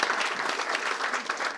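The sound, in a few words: audience applause for financial sponsors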